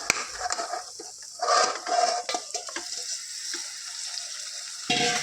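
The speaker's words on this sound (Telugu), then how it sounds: "ఇప్పుడు మనం ఇందులో చక్కగా క్లీన్ చేసి పెట్టుకున్న మటన్ను ఇందులో వేసుకుంటాను ఫ్రెండ్స్ కేజీన్నర మటను" About one and a half kilograms of cleaned mutton hits a hot pan of frying masala, bursting into loud sizzling that swells and fades alongside scraping and stirring clatter from a spatula.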